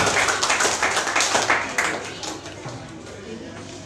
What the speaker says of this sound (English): You can applause for them.